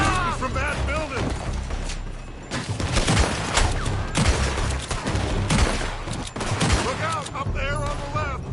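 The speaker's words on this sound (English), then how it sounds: "They're shooting from that building!" Gunfire rattles in bursts from a building in the Red Dead Redemption 2 video game, with repeated loud shots and mechanical clatter mixed with shouting voices and game effects.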